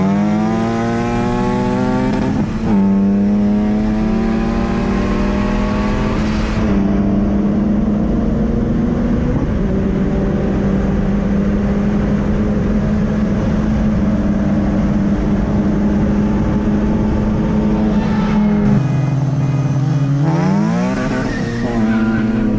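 A Honda race car running full E85 at 10 PSI accelerates hard in a roll race against muscle cars, engine rising through gears with loud revving sweeps and tire squeal, close and sustained for over twenty seconds.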